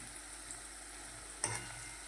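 Onion, ginger, chilli and garlic frying in a pan give a soft, faint, steady sizzle, broken by one short clink from a utensil midway.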